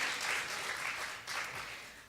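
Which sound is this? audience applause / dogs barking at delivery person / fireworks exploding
audience applause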